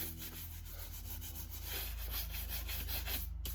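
A brush scrubs dust off cowboy boots in steady, close rubbing strokes, a continuous dry bristly scratching with no pauses.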